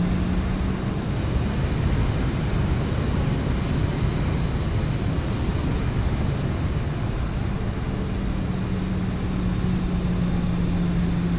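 Aircraft taxiing on the runway at Bangor International Airport, a steady loud engine drone with a high whine running through it and continuous low rumble, sustained and close throughout with no talk.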